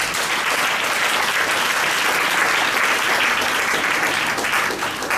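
A church congregation at a healing convention in Côte d'Ivoire applauding Jesus, a dense, loud, continuous clapping from a large crowd that holds steady throughout with no pauses.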